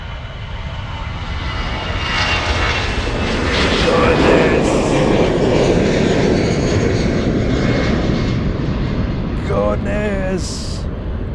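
A United Airlines jet airliner taxiing at Munich Airport toward the north side, its engines a loud, sustained broadband roar that builds and then eases, with someone talking excitedly over it near the end.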